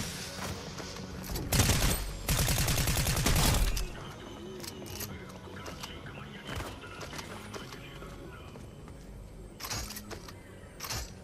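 Rapid bursts of gunfire in the Fortnite video game, a dense rattling volley of shots lasting a couple of seconds followed by scattered single pops, with in-game noise and faint chatter around.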